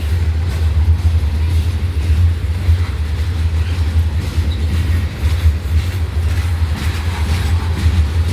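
A freight train hauling loaded centerflow hopper cars passes close by in Abbeville, South Carolina, with a loud, steady low rumble and rhythmic clatter of wheels on rail that continues throughout.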